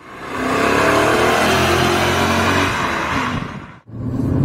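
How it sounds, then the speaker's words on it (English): A BMW E39 M5 engine revs hard while driving, a loud, sustained mid-pitched roar with rising harmonics that holds steady before dropping off sharply near the end. "the instant response of this engine feels amazing, and it sounds so fluid"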